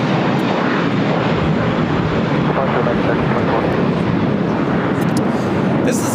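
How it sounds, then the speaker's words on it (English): An American Airlines A321 airliner taking off at LAX, a loud, steady broadband engine roar with wind buffeting that holds constant throughout. "This is American 1324 taking off to Dallas-Fort Worth on an A321"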